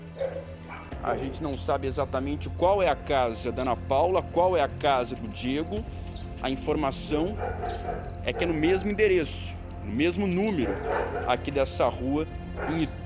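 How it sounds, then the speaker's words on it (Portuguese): A dog barking repeatedly from a house on a residential street in Itu, in the interior of São Paulo state, rhythmic yips and barks in clusters, mid-distance, under a reporter talking throughout. "tem um cachorro latindo"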